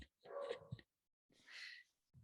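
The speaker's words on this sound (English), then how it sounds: "Excuse my dog, y'all." A dog barks twice in quick succession nearby, followed after a short pause by a higher, whining yelp; the sounds come alone between stretches of silence.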